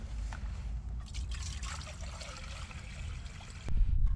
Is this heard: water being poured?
yes